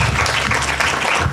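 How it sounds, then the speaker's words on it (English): Loud, close applause at a secondary school spelling bee, a brief dense burst of clapping from the audience with a low hum beneath it. "Round of applause for Kenita,"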